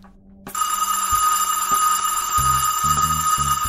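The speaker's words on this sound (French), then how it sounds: "La sonnerie retentit enfin" A cartoon school bell rings with a bright, sustained metallic ring that starts abruptly and carries on, while soft low thumps sound beneath it.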